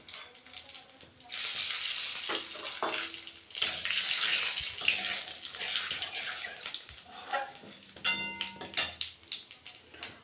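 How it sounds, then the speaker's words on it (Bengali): Cumin and nigella seeds crackle and sizzle as they are tempered in hot oil left over from frying fish, loud and close, with bursts of spitting and stirring. "সাদা জিরে আর কালো জিরে একসঙ্গে ফোড়ন দিলাম"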